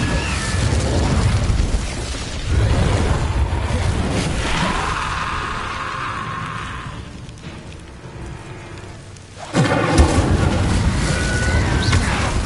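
An Incendio fire spell cast in Hogwarts Legacy: loud booming bursts and roaring whooshes, with a heavy blast at the start, a long fiery roar that tapers off, then another sharp burst near the end.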